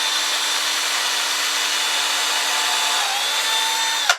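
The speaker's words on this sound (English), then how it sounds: "you're more likely to split the wood if you just drill the screw right in. So we put a pilot hole first." A power drill boring a pilot hole into a wooden board for a shelf, one continuous steady whine for several seconds that cuts off abruptly at the end.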